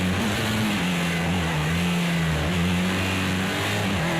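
Race car engine in Project CARS 2 during a BTCC-style race, a loud continuous roar rising and dropping in pitch as gears are short shifted, close and alone with no talk.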